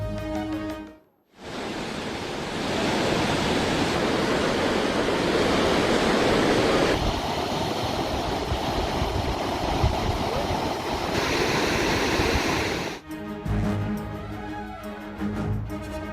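Flood water on the Chenab river rushes past, well above the danger level, with a steady roaring wash that runs loud and continuous for most of the clip before a short break and a shift in tone near the end.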